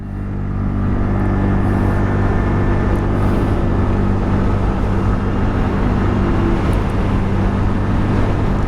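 A TVS Ntorq 125 Race XP scooter's motor hums steadily and loudly at full throttle throughout, a continuous engine drone with no talking.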